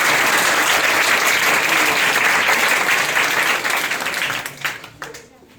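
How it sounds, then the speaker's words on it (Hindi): An audience at an institute's motivational talk gives loud, dense, sustained applause that thins out and fades over the last second or so, with no speech over it. "आप अपने लिए जबरदस्त तालियां पहले बजा लीजिए"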